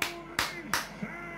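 A lone fan claps three times in even, sharp strokes, celebrating Richarlison's goal for Brazil against South Korea at the 2022 World Cup, with a voice talking nearby.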